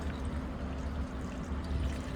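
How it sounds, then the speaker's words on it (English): Ice water poured over freshly made homemade butter to wash out the buttermilk, a steady continuous splashing and trickling pour, close and fairly quiet, with no talking. "So I'm using ice water. I'm gonna pour it on top."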